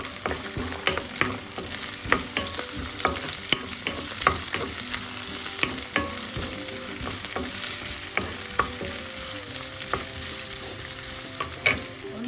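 Chopped onion and curry leaves sautéing in hot oil for a capsicum onion mezhukkupuratti, with a continuous crackling sizzle and frequent sharp ladle scrapes and taps against the pan, close and steady with no voices.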